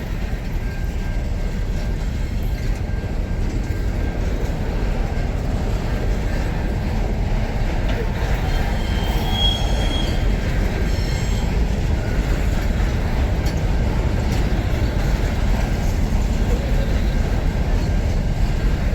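A massive SCT freight train with four locomotives and a long string of carriages rolling steadily through the Tailem Bend loop, a loud continuous rumble of wheels on rails with faint squeals and no voices.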